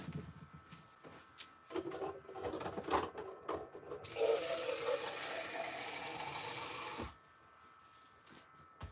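After a few close knocks and handling sounds, water gushes from a tap in a steady, hissing stream for about three seconds, then cuts off abruptly, leaving quiet.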